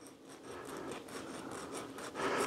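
A coarse file rasps steadily across a rectangular switch contact from an electrical contactor, with continuous scraping strokes in a loud, close, rhythmic grind and no talking.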